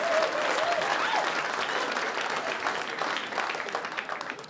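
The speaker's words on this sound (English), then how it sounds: "when you applaud" A comedy club audience gives dense, sustained applause after a stand-up joke, loud at first and easing slightly toward the end, with a few cheers mixed in.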